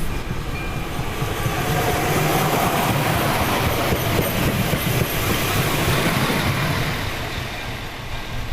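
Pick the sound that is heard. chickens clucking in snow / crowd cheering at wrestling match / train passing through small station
train passing through small station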